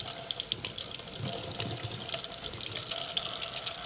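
Water runs steadily from a kitchen tap as food is rinsed in the sink, a continuous close splashing hiss with no talk.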